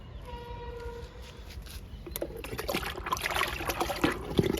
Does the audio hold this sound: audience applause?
no